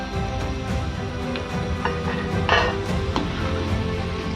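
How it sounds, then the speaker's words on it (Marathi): Fried potatoes being lifted out of the pan onto a plate in a home kitchen, with soft metallic clinks and scrapes of a utensil against cookware over a low background hum, moderately quiet. "आता आपला बटाटा छान तळून झालाय. याला आपण बाहेर काढून घेऊया एका प्लेटमध्ये."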